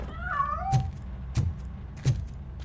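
A cat meows in the RoboCop: Rogue City video game, with a drawn-out meow followed by three short, sharp bursts spaced under a second apart, heard close and alone without talk.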